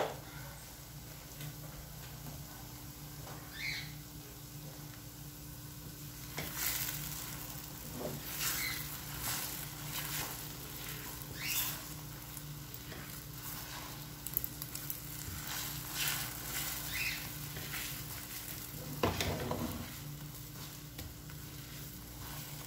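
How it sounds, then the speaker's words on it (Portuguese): Scrambled eggs fry in a pan with plantain, a steady faint sizzle across the whole stretch, broken by occasional scrapes and clinks of stirring. "Fritando os ovos."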